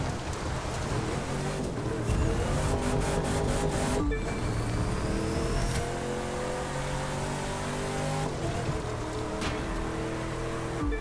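A car engine in the video game The Crew 2 hums and revs continuously, shifting pitch as it accelerates and changes gear, with some rushing background noise and no speech.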